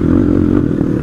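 A Crossfire RM 250 dirt bike engine drones loud and close as it is ridden, a steady low rumble with slight clattering and no speech.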